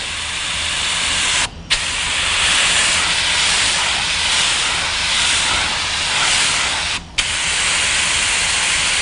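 Clear coat sprayed onto an iron door: a steady, close airy hiss running almost continuously, broken by two short pauses where the trigger is released, with no talking.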